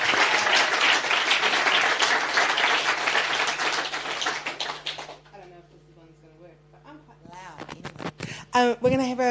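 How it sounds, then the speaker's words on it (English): Audience applause at a music industry summit, a strong burst of clapping that fades out after about five seconds, followed by a low hum and a person speaking near the microphone. "we have a round of applause"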